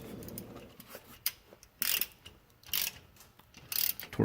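A 1/2 inch wrench ratchets while tightening differential cover bolts, with a run of quick clicking strokes that come in short bursts close to the microphone.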